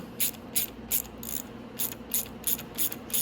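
Ratchet wrench turning a 10 mm bolt on the rear brake of a Venom E-Madix 1300w electric ATV, making quick, close, rhythmic clicking bursts, about nine of them, with no talking.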